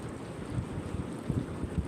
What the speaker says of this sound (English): so windy that the pole is like moving